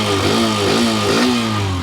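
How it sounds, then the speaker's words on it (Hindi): A 125cc motorcycle engine, either a Bajaj Freedom 125 CNG or a Hero Xtreme 125R, runs loud and close with a rough throbbing note that rises and falls in quick blips of the throttle. "तो देखो इंजन में भी अच्छा खासा आपको साउंड देखने के लिए मिलेगा"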